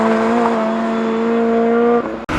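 A Honda Civic EP3 track car passes on a racing circuit with a loud, steady engine tone that holds firm before dropping away sharply at the end.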